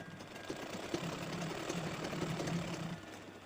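A sewing machine stitches a petal-shaped seam on a handbag made from an old kurti, a continuous close rhythmic hum and needle clatter that fades slightly at the end.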